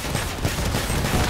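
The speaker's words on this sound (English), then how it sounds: "auto cannon projectiles coming my way" Rapid autocannon fire in a vehicle combat video game, a dense continuous burst of shots and impacts filling the short stretch at steady loudness.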